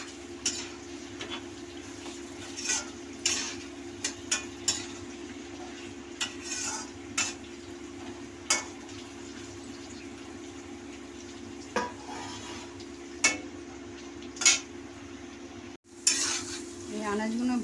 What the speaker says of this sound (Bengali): এই আনাজগুলো ভাজা ভাজা হয়ে এসছে